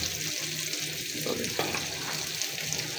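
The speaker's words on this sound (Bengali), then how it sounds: "এবার ভালো করে সুন্দর করে মাংসটাকে আলুর সঙ্গে মিশিয়ে নেবেন।" Meat being stirred together with boiled potatoes in a hot pan, a continuous sizzling and scraping texture that stays loud and steady throughout.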